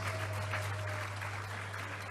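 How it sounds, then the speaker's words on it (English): An audience at a sportsman and sportswoman awards ceremony applauds, a steady, faint wash of clapping with a constant low hum beneath it. "Give them all a round of applause, please."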